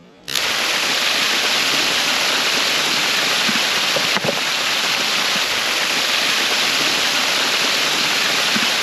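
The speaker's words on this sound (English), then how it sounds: "the pipe blowing off from the water pressure" Water suddenly bursts out as a pipe blows off an irrigation backflow preventer under water pressure, gushing loudly and continuously, a dense roaring spray that stays constant, with a brief knock partway through.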